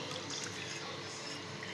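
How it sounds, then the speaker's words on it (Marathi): Melted, cooled jaggery water is strained through a sieve, a faint, steady trickle of liquid with soft drips, heard alone and close. "इथे गाळून घेतोय आपण."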